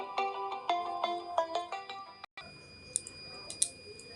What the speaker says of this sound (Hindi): तो फोन आ गया था।